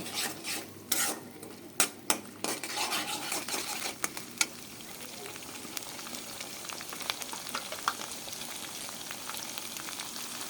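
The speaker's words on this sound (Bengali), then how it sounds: "একটু নেড়ে দিব, একটু সুগন্ধি বের হওয়া পর্যন্ত আমি নাড়ব।" A spoon stirs onion and garlic paste in a frying pan, with soft sizzling under irregular scrapes and a few sharp clinks against the pan early on, then settling into continuous frying noise.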